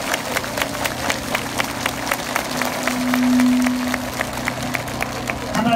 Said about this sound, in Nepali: परमेश्वरले हामीलाई यहाँ भेला गर्नुभएको छ, यस कारण हामी सबैजना मिलेर परमेश्वरलाई ताली बजाएर धन्यवाद दिउँ